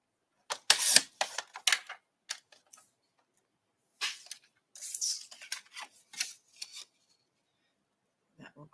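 Scissors cutting gold and black cardstock for graduation decorations: several bursts of crisp snipping and rustling paper close by, with short pauses between cuts and no talking.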